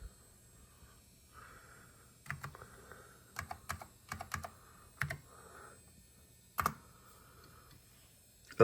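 A NeXT Cube computer's keyboard typed on in a quiet room, irregular bursts of crisp key clicks with pauses between groups, close and fairly faint, no voices.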